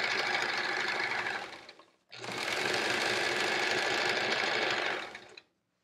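A sewing machine runs fast with the pedal pressed all the way down while piecing a quilt. Its rapid, dense mechanical whir goes in two long bursts separated by a brief stop. It is loud and close, with no voices.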